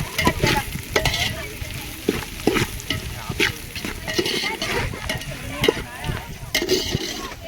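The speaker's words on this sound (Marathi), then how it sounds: "पुलाव आता कांदा मिक्स केला ढवला" Onion stirred into paneer pulao frying in a pan on a stove. A steady sizzle runs under repeated close scraping strokes of a spoon through the rice.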